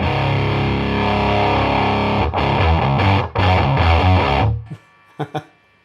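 Thick, saw-toothed distorted guitar chords through a Boss HM-2 Heavy Metal pedal with treble maxed ring out loud and buzzy, cut by a few abrupt stops, then fade into short muted stabs near the end.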